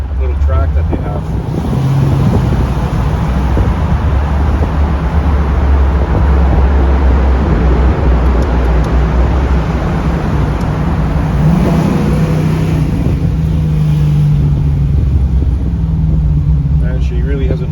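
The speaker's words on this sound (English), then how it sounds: "So I got 1 7/8 long tube exhaust with 3-inch outlets." A 1981 Pontiac Trans Am with a swapped LS3 416 V8, long tube headers and 3-inch outlets rumbles steadily while cruising, a deep continuous engine drone mixed with heavy wind and road noise from inside the car.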